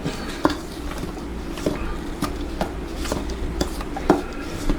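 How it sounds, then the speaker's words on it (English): Gingerbread cookie dough being mixed in a bowl, a steady run of dull thuds and scraping knocks at an irregular rhythm under a constant room hiss, close and moderately loud. "Mix it all together."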